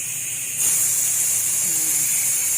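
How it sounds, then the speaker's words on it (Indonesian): Steady, loud hiss of steam venting from a pressure cooker valve after cooking beef rendang, suddenly intensifying after a brief start and then holding constant without pause. "Selalu ketika masak menggunakan pressure cooker ini buang uapnya."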